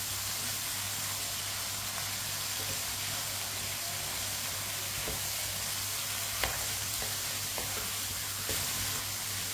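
White chickpeas mixed with bottle gourd in a pan give a steady, even sizzle and hiss with faint occasional clicks of stirring, and nobody speaks.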